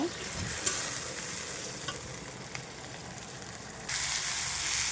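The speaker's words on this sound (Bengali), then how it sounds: "এখানে এবার ভালো করে মশলাগুলোকে কষিয়ে নেব লবণ হলুদ দিয়ে ভালো করে মশলাটাকে কষিয়ে নেব" Spice masala with salt and turmeric being sautéed for an Indian egg curry, a steady close sizzle with soft stirring scrapes in the pan, then a louder frying hiss near the end, no voices.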